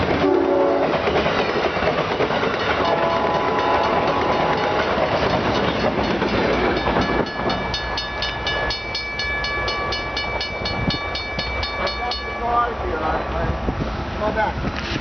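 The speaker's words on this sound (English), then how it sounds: "The front of the train as it comes." A train rumbles past with loud clattering wheels, its horn sounding in sustained blasts for several seconds before the noise fades slightly.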